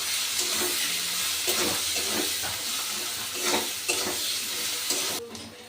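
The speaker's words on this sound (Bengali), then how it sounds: "এবার মশলাটাকে খুব ভালো করে কষে নেবো" A paste of ginger, dried red chilli and turmeric with salt is sautéed in oil for a jackfruit curry, sizzling loudly up close as a spoon scrapes and stirs it in repeated strokes, then briefly quieting at the end.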